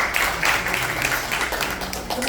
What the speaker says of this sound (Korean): 다 같이 박수 한번 더 크게 쳐주세요